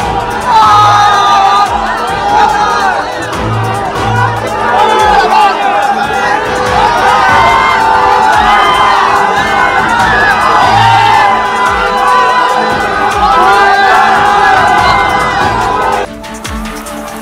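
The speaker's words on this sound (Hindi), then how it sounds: "पवन सिंह को देखने के लिए भीड़ उमड़ पड़ी।" A large crowd cheers, whoops and shouts continuously at a political road show in the Karakat area during the 2024 Lok Sabha election campaign, surging to see candidate Pawan Singh arrive in a convoy from Arrah; the dense roar holds steady before dropping slightly near the end.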